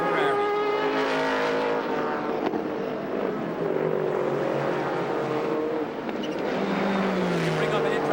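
Race cars at the 1998 Petit Le Mans, with a Ferrari running near the front, their engines droning loud and continuous, pitch rising and falling as they pass.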